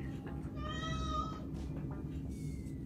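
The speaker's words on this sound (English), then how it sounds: "the cat is still meowing" A house cat meows indoors, one drawn-out cry in the middle and a shorter fainter meow afterward, fairly close over a low steady room hum.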